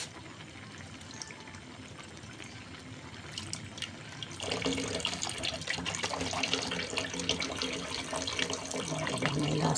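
Tap water running into a pot of vegetable stew cooked in coconut milk, a quiet background hiss that turns into a louder, steady splashing pour partway through.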